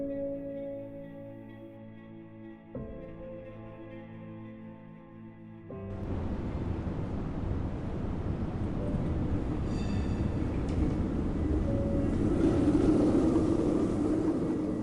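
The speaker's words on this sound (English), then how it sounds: "the train passes between the 6th and 8th floors of a high-rise residential tower and stops just like a standard platform." A train at Liziba Station in Chongqing, where the line runs through floors six to eight of a high-rise residential tower. A steady rumble builds after a quieter stretch, with wheels and carriages passing close and a high squeal near the end.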